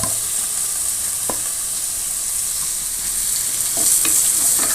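Garlic sautéing in a pan with fennel seeds and onion for a drumstick stir-fry, a steady soft sizzle with occasional spoon stirs and scrapes, close and alone.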